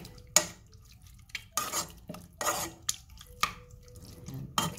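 Broccoli being stirred with oil in a pan, giving repeated scraping and clattering strokes with sharp utensil clinks at an uneven rhythm, close and fairly quiet, with no voices.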